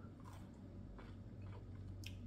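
A crunchy pickled dilly bean, a sour green bean pickle, is bitten and chewed close to the microphone, with a few soft, quiet crunching bites over a low background hum.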